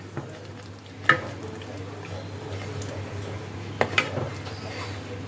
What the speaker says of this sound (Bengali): ভালোভাবে কষাতে হবে যতক্ষণ না তেলটা ওপরে ভেসে উঠছে